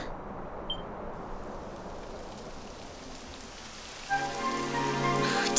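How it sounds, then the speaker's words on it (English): Steady rain falls in the Dragon Quest XI video game, an even hiss on the ground that runs the whole time. A sustained musical tone comes in near the end. "It would have to go and start raining, wouldn't it?"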